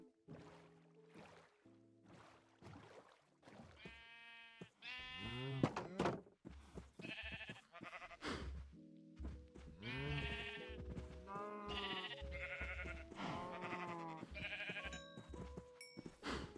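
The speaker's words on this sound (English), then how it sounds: "Now we've got a total of 8 sheep." Blocky Minecraft sheep bleat repeatedly in the video game, overlapping wavering calls coming thick and fast, some near and loud, others softer, with a quiet voice talking underneath.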